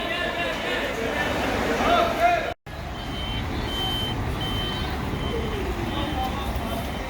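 Loaded tractor-trailer truck reversing at an earthquake relief aid center in Kocaeli, with steady tonal reversing beeps over constant engine and traffic noise; people talk over it throughout.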